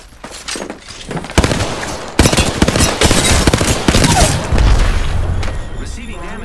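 Rapid bursts of gunfire from weapons in the battle royale game Apex Legends, loud and close, with heavy booming shots and continuous volleys that run almost without a break, and speech at times.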